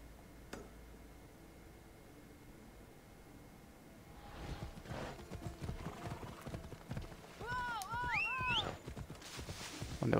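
Horse hooves clip-clop in Assassin's Creed Odyssey, starting faint and growing into a steady, close walking rhythm, with a whinny rising near the end.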